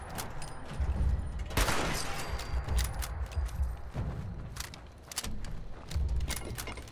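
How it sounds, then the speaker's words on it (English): Shotgun blasts in the video game Fallout 76, several loud booming shots spaced a second or so apart amid crackling impacts and other gunfire, close and punchy. "I should get that shotgun out."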